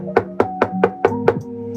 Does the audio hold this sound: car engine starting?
no